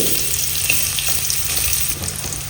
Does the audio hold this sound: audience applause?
no